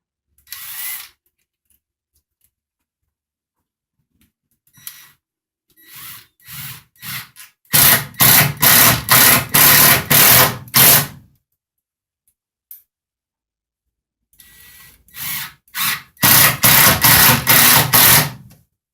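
Screws being driven into a wooden wall stud with a power tool, heard as short whirring and clicking bursts, then two longer runs of rapid ratcheting that stop and start against near silence.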